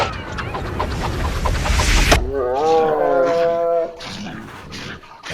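A tiger roar sound effect in an animated Indian mythological story: a loud, rough, close roar for about two seconds, then a drawn-out, wavering, howl-like cry that fades.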